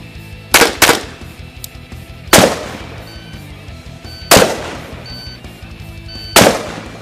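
Rifle and pistol fire on a U.S. Marine Corps marksmanship competition range: five sharp, loud reports at irregular intervals, two in quick succession at first, each with a short ringing tail over a low outdoor background.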